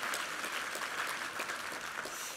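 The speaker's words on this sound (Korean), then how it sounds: "2부 성가대를 우리 김성수 지휘자님 지휘하셨는데 우리 성령 충만한 찬양해 주신 우리 2부 성가대 한번 힘찬 격려 박수 부탁합니다." A church congregation claps for the choir during a Sunday worship service, brief and dense, heard from within the room.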